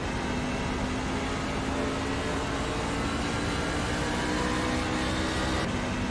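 A stock pickup truck in the iRacing sim's ITPN Truck Series at New Hampshire drones steadily and loud at close range, its engine note holding an even roar with a faint shift in pitch late in the run.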